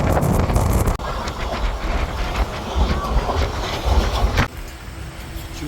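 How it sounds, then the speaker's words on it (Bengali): Train 13432, the Balurghat–Nabadwip Dham Express, pulls out of Balurghat station, heard from on board as a loud, steady rumble with rattling carriages and clattering wheels, and faint voices underneath. "আমাদের ট্রেন 13432 বালুরঘাট নবদ্বীপ ধাম এক্সপ্রেস তার নির্দিষ্ট সময় 2:30"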